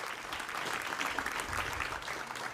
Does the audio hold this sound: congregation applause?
yes